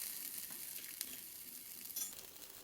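A flipped mutton keema cutlet fries in a pan, giving a quiet, steady sizzle with a couple of faint clinks.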